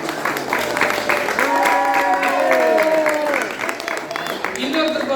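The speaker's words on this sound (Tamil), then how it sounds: "நம்மளுடைய யாழினி அவர்களுக்கு மிக பலத்த கரகோஷம்" Crowd claps loudly and steadily for Yazhini at a JCI Hosur Lake City pattimandram debate, while a voice speaks prominently over the applause throughout.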